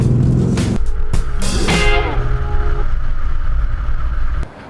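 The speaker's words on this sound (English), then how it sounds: "so what you're hearing is the engine and not necessarily anything that's been enhanced." A 2016 Audi S6/S7 engine with sport exhaust roars loudly under acceleration in the canyons, a rising tone shifting through gears, with heavy wind rush throughout.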